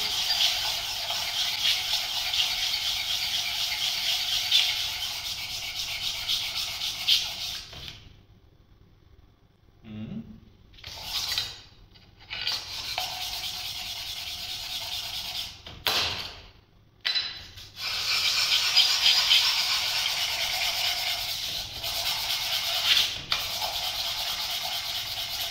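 Steady rasping and scraping of a metal tank block being sawn and sanded, close and continuous with a couple of short silent breaks midway.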